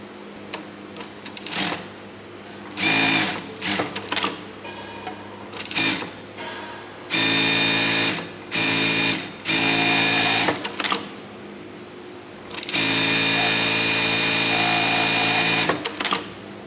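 A sewing machine stitches tote bags in several loud, close bursts of rapid mechanical whirring, separated by brief pauses and quieter handling sounds, with no talking.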